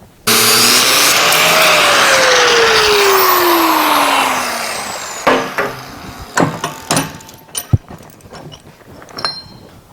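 A regular grinder works mushroomed metal off a steel splitting wedge, giving a loud continuous whine that sweeps down in pitch for several seconds before breaking into short bursts of grinding and contact with no talking.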